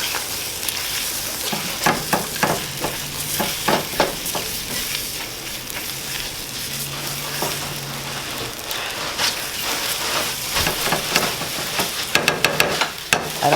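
Eggs with garlic salt are stirred in a hot pan, a steady close crackling sizzle broken by repeated scraping utensil strokes and soft clicks against the pan.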